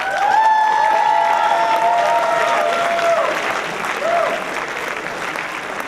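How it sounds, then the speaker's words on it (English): Audience at a 2012 SASA Show fashion show applauds the production team, a dense, steady wash of clapping from a large crowd with some whistles and cheers riding over it, fading slightly toward the end. "you guys deserve a huge round of applause"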